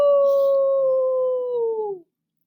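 A human voice imitates a dog, giving one long, drawn-out howl that holds steady, sags slightly in pitch near the end, then cuts off abruptly after about two seconds in a quiet room.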